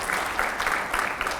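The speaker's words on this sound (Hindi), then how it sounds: "जोरदार तालियां हुआ करें।" An audience at a televised interview event with a minister and editors applauds, a steady wash of clapping at moderate level with no talk over it.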